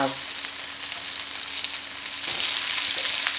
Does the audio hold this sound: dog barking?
no